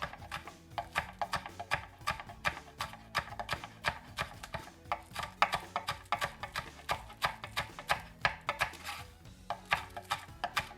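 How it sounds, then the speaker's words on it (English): Green onion being finely chopped with a knife on a cutting board, a steady fast run of close, crisp knocks lasting several seconds without talking. "I'm going to slice the white part of my green onion in half and give that a fine chop."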